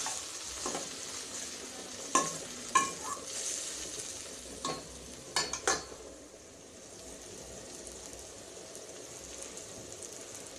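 Finely chopped tomato fries in a pan for an Indian-style veg thali, a faint steady sizzle broken by several sharp clinks and scrapes of a utensil against the pan.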